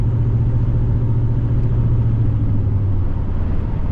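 A second-generation pickup truck with 2500 suspension drives along, its engine rumbling low and steady with road noise throughout, loud and near, with no talk.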